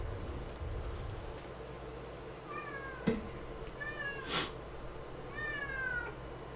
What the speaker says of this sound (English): That is a meow sound.